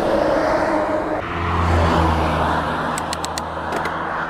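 Vehicles rush along a fast, dead-straight main road crossing moorland near Pateley Bridge in Nidderdale, with a steady close roar of traffic and wind that swells as a car passes.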